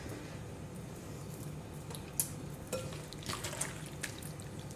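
Salted vegetables for homemade kimchi are packed and punched down into a container, giving soft wet squishes and squelches of juice, a few distinct pushes standing out from a quiet background.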